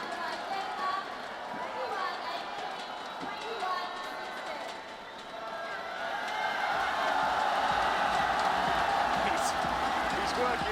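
An indoor badminton arena crowd cheering at the Sudirman Cup as Peter Gade of Denmark wins his men's singles match, a steady roar that swells louder toward the end, with a commentator talking over it.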